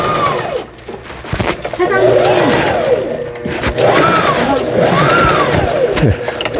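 A Brother MS25Q sewing machine runs through decorative stitch patterns such as a three-step zigzag, making a loud, continuous mechanical whirr with repeating rising and falling tones and rhythmic pulses.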